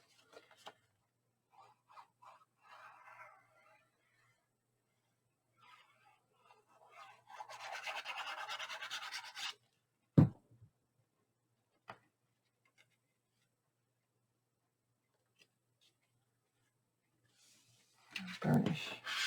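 Paper is burnished during scrapbook crafting on an 8 x 8 album page, heard as soft rubbing scrapes in a few short bursts and one longer stretch, with scattered light clicks and taps in a quiet room.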